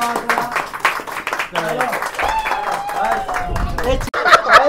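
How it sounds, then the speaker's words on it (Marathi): Clapping for prize winners at a children's event, scattered hand claps and light chuckles mixed with lively chatter and overlapping voices, close and busy throughout. "सगळ्यांना टाळी वाजवा दोघांसाठी."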